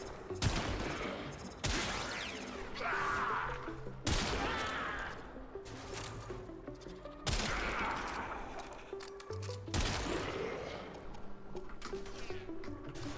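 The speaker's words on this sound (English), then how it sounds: "I heard the gunshots." Bursts of rapid gunfire in the video game Warframe, several loud volleys separated by brief gaps, with sharp individual shots cutting through a busy game soundscape.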